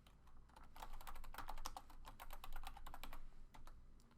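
Fingers type a folder name on a computer keyboard, a quick irregular patter of close, quiet key clicks lasting several seconds with no voices.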